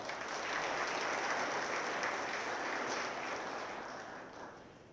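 Sustained applause from an audience at a high school athletic hall of fame induction ceremony, a steady wash of clapping that holds for several seconds and then begins to taper off toward the end.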